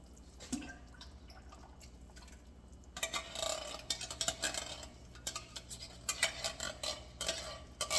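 Homemade soup with tomato sauce being stirred in a pot, giving soft liquid sloshing and light utensil scrapes that come in uneven bursts, close and fairly quiet, with no talk.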